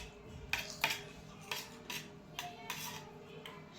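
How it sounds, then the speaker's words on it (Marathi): A metal spoon scooping hot ghee from a container gives a series of soft, close clinks and scrapes, about eight light taps spaced unevenly over a few seconds, with no talking. "आपण चमच्याने काढतोय कारण की हे खूप गरम आहे."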